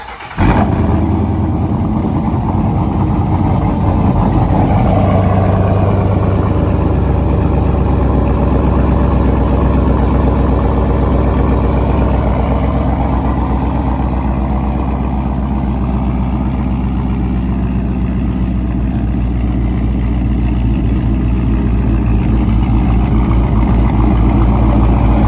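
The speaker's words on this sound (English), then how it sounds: "now we're going to take a drive in the RT" A cammed Dodge R/T engine fires up and settles into a deep, loping idle, close and loud, the rumble holding steady throughout with no talk.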